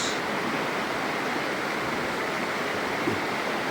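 A stream near a waterfall rushes steadily and loudly as someone crosses it, a continuous broadband wash of flowing water close by with no speech.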